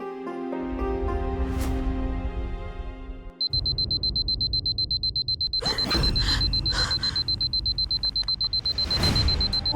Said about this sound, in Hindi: 4:30 बजे का अलार्म क्यों लगाया है?